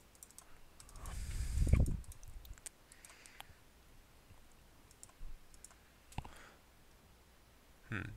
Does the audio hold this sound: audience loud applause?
no